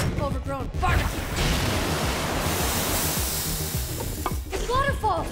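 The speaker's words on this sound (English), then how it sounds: "It's waterfalls!" Waterfall in the video game Minecraft Story Mode, a loud continuous rushing hiss of falling water, steady throughout, with voices speaking briefly at the start and end.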